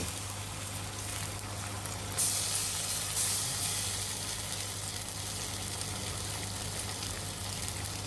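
Okra frying in a pan as mustard paste goes in, a steady soft sizzle and hiss throughout with a brief brighter crackle partway through, fairly faint against a low hum.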